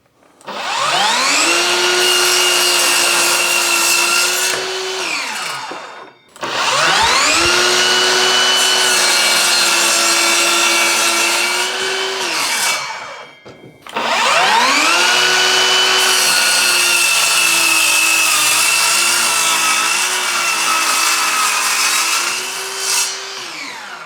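A Bauer 20V cordless 7¼-inch sliding miter saw whines up and bites through a 2x6 board three times, each cut a loud, steady high-pitched buzz that spins down between passes.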